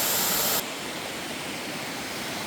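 Steady broadband roar of the waterfall at Cascade Falls in Jefferson National Forest, Virginia: louder and brighter for the first half-second, then settling into a slightly softer, continuous rushing wash with no voices.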